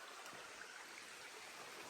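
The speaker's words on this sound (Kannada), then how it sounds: "ಚಳಿಗಾಲದಲ್ಲೂ ಆಲ್ಮೋಸ್ಟ್ ಎಷ್ಟು ನೀರು ಹರಿತಾ ಇದೆ ನೋಡಿ" A steady broadband wash of water from a mountain stream along the Kudremukha trek in winter, flowing continuously and evenly without pauses, with no voices.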